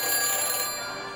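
A brief electronic phone ring follows dialing in the Back to the Future video game, a bright, steady tone with a clear pitch, heard alone at moderate volume.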